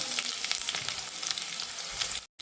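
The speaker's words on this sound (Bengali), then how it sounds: "তেল দিয়ে দিলাম পেঁয়াজ কুচি দিয়ে দিলাম লাল লাল করে ভেজে নেব" Chopped onions fry in oil with ginger-garlic paste for a soybean curry, a continuous close sizzle with faint stirring. The sound drops out briefly just before the end.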